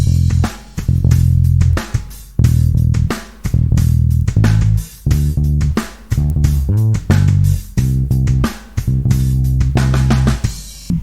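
Electric bass plays the last four bars of the chorus variation of a song, with steady, punchy low notes in a repeating rhythmic pattern, loud and close with brief gaps between phrases.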